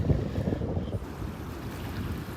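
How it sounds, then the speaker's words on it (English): Gusty wind buffets the microphone over a low, churning roar of rough Gulf of Mexico surf at a beach in North Naples, Florida, loud and steady throughout. "Kind of windy and rough. Very rough out there in the Gulf this morning."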